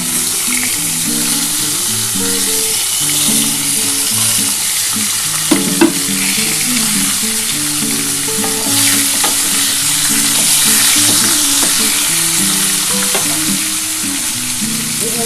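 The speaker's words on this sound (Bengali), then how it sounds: "এরপর আমি এই আলু তুলে দিয়ে দিলাম" Potatoes frying in hot oil alongside pointed gourd in a pan, a constant close sizzle broken by the scrape and clack of a spoon stirring now and then.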